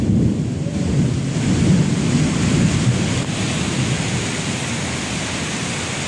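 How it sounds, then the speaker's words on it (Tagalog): Heavy rain pours down steadily in a sudden afternoon downpour, a dense and constant roar with low thunder rumbling underneath and no break in the noise. "Bumuhos ang ulan guys, ayan o."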